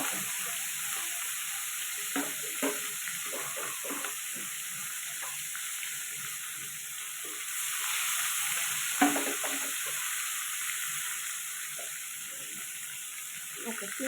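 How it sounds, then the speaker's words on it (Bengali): Koi fish rubbed with salt, turmeric and oil, fried one at a time in hot oil, giving a steady close sizzling hiss broken by small crackles and pops, with no talking. "তেলটা গরম হয়ে গেছে, এবার আমি মাছগুলো ভেজে নেব।"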